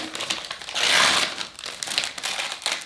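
Crinkly plastic of an advent calendar package being opened, a steady close rustling with a louder crunching burst in the middle and lighter crackles toward the end.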